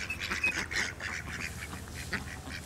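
Several ducks quack in quick, overlapping bursts, fairly faint and close together, with steady background noise.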